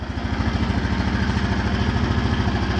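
A 2014 Honda Foreman 4x4 TRX 500 ATV engine runs close by after starting, a steady mid-pitched chugging idle with a fast, even pulse.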